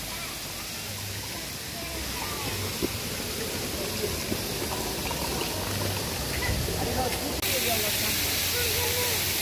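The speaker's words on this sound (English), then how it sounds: "This is from the waterfall, all this water coming in." Waterfall water rushing down near Banos, Ecuador, a close, steady broadband roar that holds unbroken for the whole stretch with no clear pauses.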